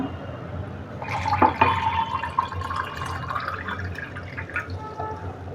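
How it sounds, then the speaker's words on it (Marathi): Cold water pouring into a glass holding orange sharbat premix powder, a short trickling fill with a brief splash near the start, running steadily at moderate volume with no talk. "पाणी घालू थंड पाणी घालूया"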